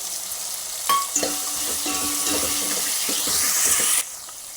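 Drumstick pieces and sliced onion fry in a pan with a steady broadband sizzle, broken by a few spoon scrapes and stirring knocks until the sizzle cuts off near the end.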